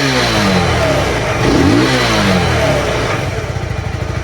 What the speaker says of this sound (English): And see if I rev it.